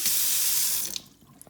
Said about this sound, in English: You fill up a cup of water,